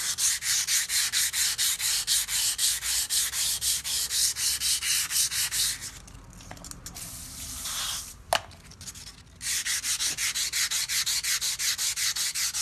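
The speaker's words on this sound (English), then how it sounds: "I come down to 220 and wet sand the bar" Wet sanding a roll bar with 220-grit paper: rhythmic, steady back-and-forth rasping strokes, close and loud, pausing briefly in the middle before the strokes resume.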